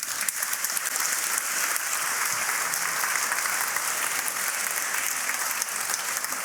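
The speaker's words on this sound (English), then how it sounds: "If we could just give them a warm round of applause." A debate audience in a chamber gives warm, sustained applause, dense, even clapping from many hands that holds steady from start to finish at a strong level.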